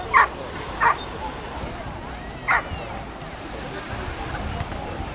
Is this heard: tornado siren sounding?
no